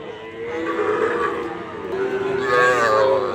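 Sahiwal breed cattle calves mooing at a busy cattle market, drawn-out lowing calls that rise and overlap, with crowd noise murmuring steadily underneath.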